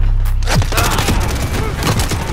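A rocket blast in Modern Warfare multiplayer, a loud close boom followed by scattered thuds and gunfire over a couple of seconds.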